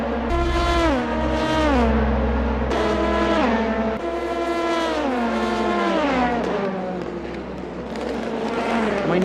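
Race cars on the main straight at Autopolis, loud engines whining up in pitch through repeated gear changes, one car following another, with some tire noise underneath.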